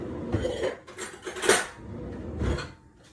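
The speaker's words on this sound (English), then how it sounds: "I'm gonna grab a fork." Metal cutlery clinks and rattles against dishes as a fork is picked out, a few sharp clatters close by.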